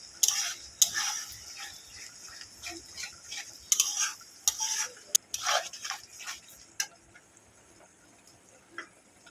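A spoon scrapes and stirs beef shahi korma in a pan, with irregular clinks, taps and scrapes against the metal over a faint sizzle, close and fairly quiet.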